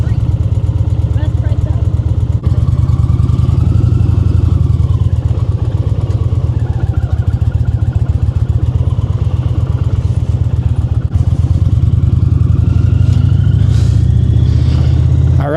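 Indian Chieftain Pursuit Darkhorse motorcycle engine running nearby with a deep, continuous throbbing rumble and a slight rise in revs, under a voice talking throughout.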